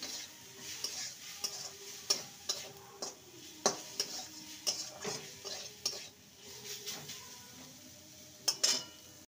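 Poha and carrot stir-fried with green chilli and garam masala, a spoon scraping and knocking the pan in an irregular rhythm over a faint sizzle, close and fairly quiet.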